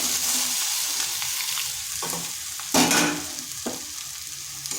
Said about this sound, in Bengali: এবার সমস্ত উপকরণ ভালোভাবে মিশিয়ে নিচ্ছি